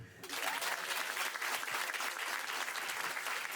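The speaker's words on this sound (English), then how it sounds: "Danes in the room, give me a clap." A stand-up comedy crowd at a Danish special bursts into sustained applause, dense steady clapping that starts abruptly and carries on evenly, close and full, with a few voices underneath.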